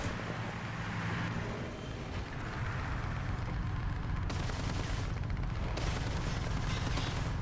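Tank combat in War Thunder around a BT-7 light tank with an F-32 gun: a steady rumbling engine drone with sharp, clipped gunfire reports breaking through, fairly loud and continuous.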